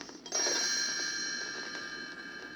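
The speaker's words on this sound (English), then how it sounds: "You will know it is time to turn the page when Tinker Bell rings her little bells like this" A bright, high chime of small bells rings out after a brief pause, its tones lingering and slowly fading over a couple of seconds.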